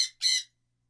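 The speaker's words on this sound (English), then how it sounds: "he's just doing what birds do, scream for no reason at all" A pet bird, Mr. Heyboo, lets out two loud, harsh squawks close by while eating his dinner. The first squawk is short, and the second is longer and louder. Silence follows.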